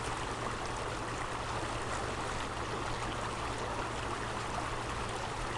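River water flowing steadily and still running high, a constant even rushing wash with no breaks or voices, heard from a moderate distance.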